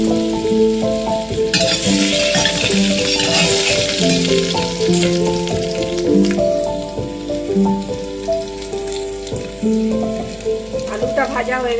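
Potatoes fry in a pan with a steady crackling sizzle, close and fairly loud, while melodic music plays prominently over it.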